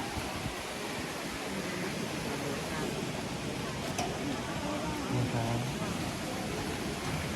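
Steady rain pours down at an outdoor festival honouring a Phu Thai artists' stage, a dense even hiss that fills the scene with no clear voices over it.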